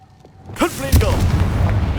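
A Confringo spell blast from Hogwarts Legacy bursts loudly about a second in, a sharp boom that trails into crackling, rumbling debris after a voice briefly speaks.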